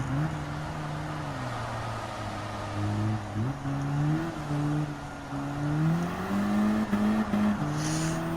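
An all-wheel-drive Audi TTS Coupé '14 engine hums through Gran Turismo 7 at Tsukuba Circuit, a steady droning tone that rises and dips with shifts and throttle changes, heard alone at moderate level.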